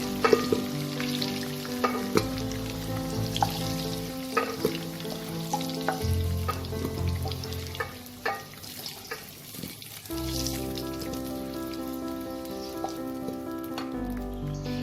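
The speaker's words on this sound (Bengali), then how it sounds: "আলুগুলোকে আমি লাল করে ভেজে নেব।" Potatoes sizzle and crackle steadily in hot oil for a traditional Bengali mutton curry, a dense close frying hiss with occasional stirring knocks and pops, no voices.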